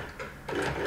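A sewing machine runs a zigzag stitch through fabric for handmade fabric roses, a steady close mechanical whir with rapid needle ticking that grows louder and busier in the second half, with no talking.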